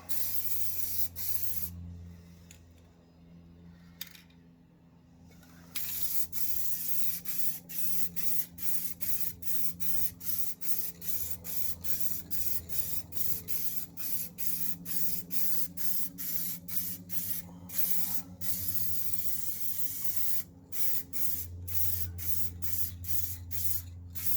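Light coats of Plasti Dip hiss from an aerosol can onto wheel rims in a rapid series of short, close bursts, with a few longer sprays and brief pauses, no voices.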